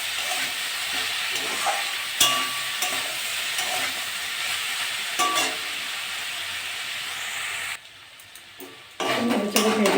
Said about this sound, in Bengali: গ্যাসটা কম করে আস্তে আস্তে ভাজা করবো।